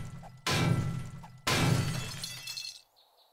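Two loud, close shattering crashes about a second apart as a structure breaks and collapses in 7 Days to Die, each burst ringing out before fading into a quiet, faint hiss.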